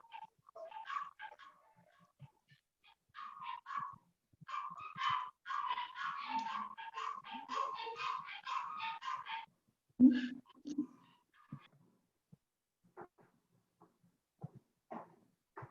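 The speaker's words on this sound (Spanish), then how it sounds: "Por ahí está un perrito que está acompañándonos en la sala." A small dog in a room where a talk is going on gives a run of yips, whimpers and short barks, mostly steady and close. Near the end a louder thump and a few sparse sounds follow.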